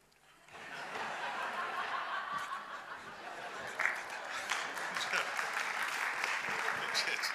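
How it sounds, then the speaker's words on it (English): Audience at a church summit bursts into clapping after a quiet start, sustained crowd applause with some chuckling and murmured voices mixed in, growing denser toward the end. "You clap because it's an improvement?"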